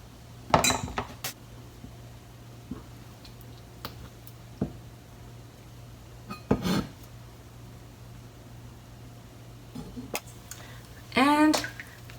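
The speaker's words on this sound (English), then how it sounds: "And coat them with kinako powder" Warabimochi being mixed and coated with kinako powder in a dish, heard as a few sharp utensil clinks and scrapes against the dish separated by quiet gaps, with a voice speaking between them.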